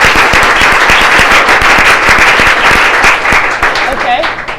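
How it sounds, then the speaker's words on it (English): A studio audience gives show guests a warm round of applause, loud, crisp, rapid clapping from many hands that carries on steadily and thins slightly toward the end. "Let's give them a warm round of applause."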